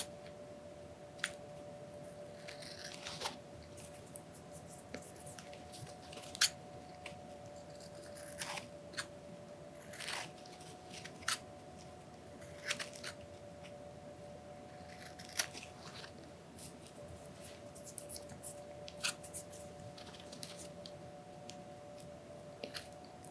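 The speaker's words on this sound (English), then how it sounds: "So I'm just going to cut it down even more." Scissors trim down a puppet's nose piece, making quiet, close, crisp snips that come in irregular clusters over a low steady hum, with no talk.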